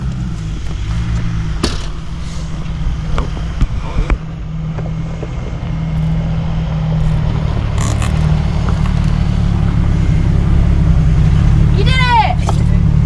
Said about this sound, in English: Sounds like they're going over the rock garden right now.